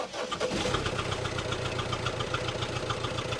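Engine of a van bought at a salvage auction idling with a steady rhythmic knocking chuff, running without an intercooler and with the airflow sensor unplugged, close and fairly loud.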